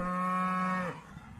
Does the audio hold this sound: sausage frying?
no